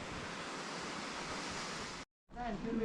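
Wei Sawdong waterfall in Cherrapunji (Sohra) gives a steady, dense roar of falling water that cuts out briefly, then returns with faint voices over it.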